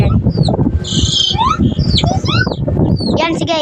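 Baby chicks cheep in quick, high, thin bursts close by, with overlapping peeps scattered throughout and a voice talking underneath.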